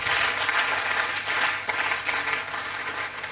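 Sustained applause fills the hall at a quantity surveyors' annual event as a man takes his seat, a thick, even patter of many hands clapping nearby.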